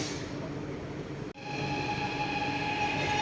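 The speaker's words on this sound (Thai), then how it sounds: "รถไฟใต้ดินไปแล้ว" A subway train pulling out of an underground station, a steady rumble of wheels and motor with a rising whine and faint squeal after a brief pause, heard nearby without talk.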